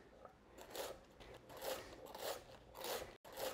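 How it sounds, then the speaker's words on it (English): A knife cuts through crisp cabbage in a quiet, steady rhythm, each stroke making a soft crunchy snap. "You can hear the snap of that crispy cabbage."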